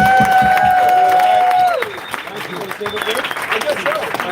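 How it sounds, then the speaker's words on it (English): Applause and cheering from a crowd in a Concord, New Hampshire venue at a political campaign event. A steady ringing tone gives way to a dense, fairly loud wash of clapping and voices. "Let's give another round of applause."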